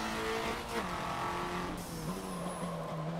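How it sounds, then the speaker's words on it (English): Racing video game car played on a steering wheel, with a loud, continuous engine drone and a brief whooshing blow-off valve release, with no talk. "this thing sounds sick though, that blow off valve"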